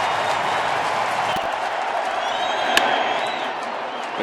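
A baseball stadium crowd at a Giants–Nationals playoff game roars and applauds in a dense, sustained wash of cheering with scattered whoops, steady and loud throughout.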